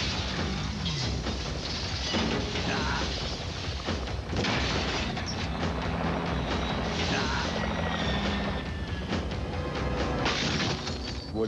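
Helicopter rotor and engine roar in a Terminator film action scene, a continuous loud dense rumble with crashes and impacts layered through it, no clear talk.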